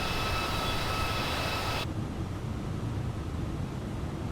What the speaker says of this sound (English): We're in the Airbus 320neo